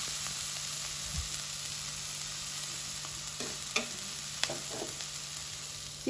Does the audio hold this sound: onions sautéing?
yes